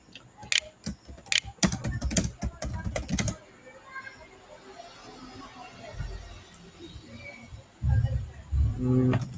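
Computer keyboard typing comes in close, quick bursts of key clicks separated by pauses. Quiet stretches and some low background noise fill the gaps, and there is no clear speech.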